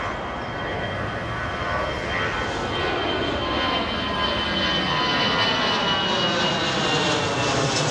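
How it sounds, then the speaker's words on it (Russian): Airplane taking off at Adler airport in Sochi, a loud, sustained broadband engine roar that holds steady and swells slightly across the whole stretch, close by, with no talk. "Самолет вылетает, и посмотрите,"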